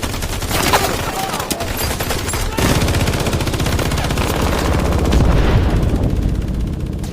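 Sustained gunfire in a film battle scene near a forest and bridge, rapid bursts of automatic fire crackling almost continuously at high volume, with a sharp heavy report partway through.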